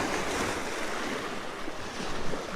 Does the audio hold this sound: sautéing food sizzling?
no